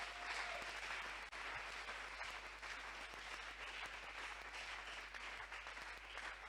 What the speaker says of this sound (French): Est-ce qu'on peut acclamer très fort la parole du Seigneur?